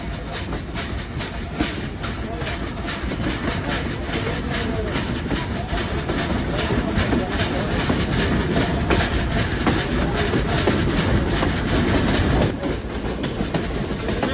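The Sundarban Express passenger train rolls steadily from Mobarakganj station in Bangladesh, a loud continuous rumble with rhythmic clickety-clack of wheels over rail joints throughout.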